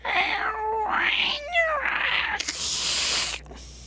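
A cat yowls in long rising-and-falling wails, three or four cries in a row, then breaks into a harsh hiss, echoing off the stone walls of open ruins, close and loud.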